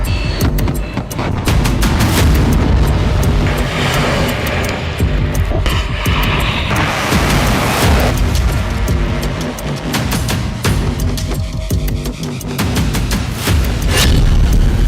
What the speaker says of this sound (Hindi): 2025 का सबसे बड़ा हमला, इस्कंदर के धरती फाड़ धमाके